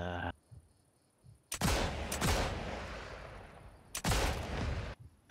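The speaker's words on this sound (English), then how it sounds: "somebody's fucking shooting with an MG." Machine gun fire rattles out in a video game in two loud, sustained bursts, each lasting a couple of seconds and separated by quieter stretches, with a brief faint voice early on.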